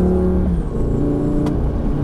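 A Lamborghini Gallardo accelerates on the Lédenon race track, its engine a loud, steady, close roar with a continuous droning tone and no talk.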